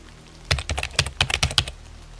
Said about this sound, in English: The keyboard is typing by itself.